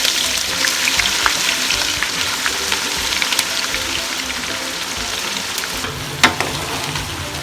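Onions sizzling in a pan on the way to browning for Chennai-style chicken dum biryani, a dense continuous crackle with occasional stirring clinks and one sharper knock near the end, no voices.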